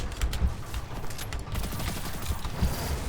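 Distant bursts of gunfire crackle and thump over a busy mechanical background, with scattered sharp shots throughout, in the video game Destiny 2.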